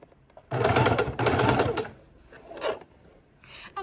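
A sewing machine runs a stitch line along fabric bias binding in short bursts, a close, rapid whirring that stops and starts several times with quiet gaps between.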